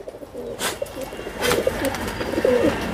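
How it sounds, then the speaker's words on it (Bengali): A pair of Pakistani-breed pigeons coo in soft, repeated bursts at close range, with faint rustling and background hum. "এটা আপনার পাকিস্তানি জাতের কবুতর দুটাই"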